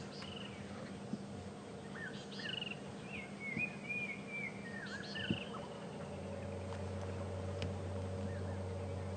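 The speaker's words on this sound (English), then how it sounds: "The birds you can hear in the background are called arrow-marked babblers, and babbling they certainly are this morning." Arrow-marked babblers chatter in loose bursts of rising and falling calls at sunrise on an African safari drive, moderately distant over a steady low engine hum.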